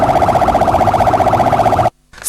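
Wailing emergency siren of an ambulance on a street in Kinshasa, loud and close, sweeping steadily for about two seconds before cutting off abruptly into near silence.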